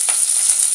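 Curry leaves dropped into hot oil with mustard seeds and salt for a Sri Lankan jackfruit curry, giving a steady close, bright sizzle and crackle with no talking.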